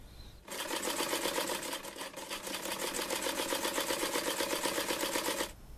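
A Singer Featherweight Model 221 sewing machine runs at a steady pace for about five seconds, its fast, even needle chatter close and loud, starting and stopping cleanly with no talking.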